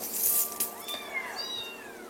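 A cat meows clearly several times in quick succession, close and fairly loud, with rising and falling cries over a quiet background.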